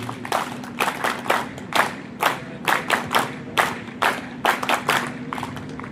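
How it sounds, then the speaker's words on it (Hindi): Audience clapping along in a steady, rhythmic beat at an Arya Samaj camp closing ceremony, as dignitaries on stage are honoured; a low steady hum runs underneath throughout. "ताली।"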